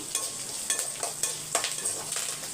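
Curry leaves sauté in hot oil, giving a continuous sizzle broken by rhythmic scrapes of a spoon stirring the pan, close and moderately loud.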